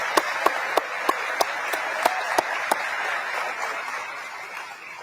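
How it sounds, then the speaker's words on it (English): A small audience at a Macon, Georgia community address applauds local restaurants, a thin steady patter of clapping with a few sharp individual claps standing out early, fading slightly over five seconds. "Let's give them a round of applause."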